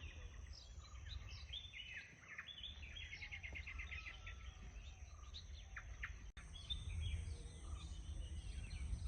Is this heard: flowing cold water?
no